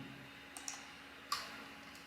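A few sparse keyboard clicks as code is typed on a computer, with two light taps followed by one sharper keystroke over a quiet background hum.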